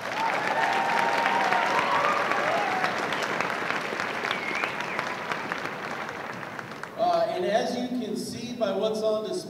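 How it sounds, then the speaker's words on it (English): Sustained applause from a school assembly audience honoring a prom court at a high school, a steady roar of clapping with voices talking over it, the clapping thinning toward the end as speech takes over. "Another round of applause for our court."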